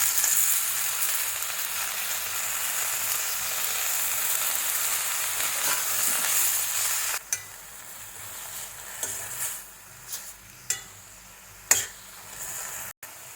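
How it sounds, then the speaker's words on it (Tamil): Moringa leaves frying in a pan, a strong hissing sizzle that quiets partway through, followed by several sharp scrapes and knocks of a spoon stirring the leaves. "இப்போ இந்த முருங்கை இலையை போட்டு கிளறி கொடுக்கலாம்"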